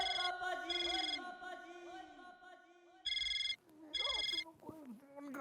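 Telephone bell ringing in repeated bursts during a nighttime scene in the Indian sitcom Taarak Mehta Ka Ooltah Chashmah, loud and clear, alternating with music and voices talking between the rings.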